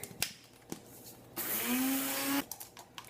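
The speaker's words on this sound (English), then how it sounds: "We're going to powder the sweetener in a coffee grinder." A small electric coffee grinder whirs loudly for about a second, powdering sweetener, preceded and followed by clicks and light handling noises.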